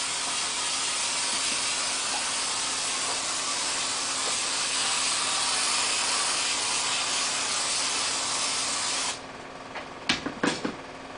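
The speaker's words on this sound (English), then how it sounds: "Take your glue, spray it on the side of the Dacron." Spray glue hisses steadily onto Dacron wrapping for upholstery foam, a loud, close, continuous spray lasting about nine seconds before it cuts off, followed by a few soft handling knocks.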